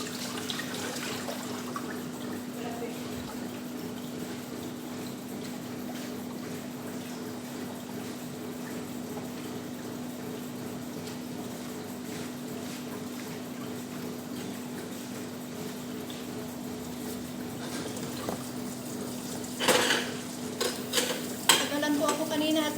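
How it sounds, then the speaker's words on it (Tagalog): Plates and cutlery clink and clatter in a sink under steady running hot water, a continuous wash with brief louder clatters near the end, heard close up with no talk. "Maghugas muna po ako ng mga plato ngayon dahil tapos na po silang kumain."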